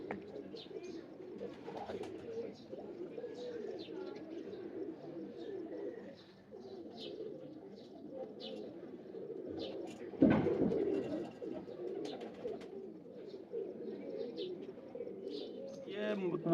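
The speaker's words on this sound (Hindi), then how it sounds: "ये मिसे जालदार और डब वाले कबूतर है।" Mottled (jaaldaar) and dub-type pigeons coo softly in a loft, a steady low murmur of overlapping calls with occasional chirps and a brief rustle, while someone talks over them.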